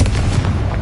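A Confringo blasting spell explodes in the Hogwarts Legacy video game, a dense, rumbling boom that fills the whole short moment with loud low-end energy, with no talking over it.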